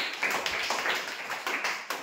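A group claps together during a classroom phrase-making activity, a quick, dense patter of hand claps running steadily for about two seconds at moderate loudness, with no talking.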